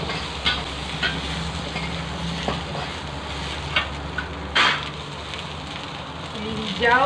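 Eggplant shallow-frying and being stirred in a pan for shallot sambar, a steady sizzling crackle with scraping stirs and occasional louder clatters, close and continuous throughout.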